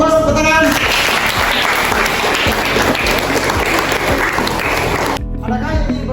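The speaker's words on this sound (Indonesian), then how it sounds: "Oke, aplaus, tepuk tangan." Audience at a classroom presentation breaks into loud, steady applause, dense clapping that fills most of the clip before cutting off abruptly near the end.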